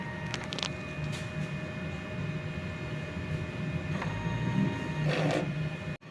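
A DTF printer runs its head-cleaning cycle with a steady mechanical whir and hum, and a few brief clicks and pump surges stand out above it. The noise stays level until it cuts off abruptly near the end.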